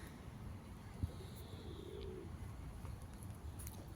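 A pigeon gives a soft, low coo outdoors, faint beneath a steady wash of ambient noise and the occasional light knock.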